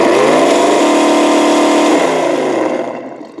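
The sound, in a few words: Tamiya Toyota Tundra RC truck motor at third speed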